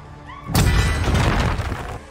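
Grenade explosion in a crime-action film, a sudden loud blast that lands after a quiet stretch and keeps roaring with heavy rumbling debris and crashing for well over a second before it fades.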